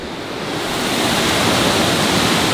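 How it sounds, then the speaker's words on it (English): A waterfall at an abandoned cotton mill roars as a steady, loud, broadband rush of falling water, swelling slightly and continuing without pause. "we have now reached the waterfall"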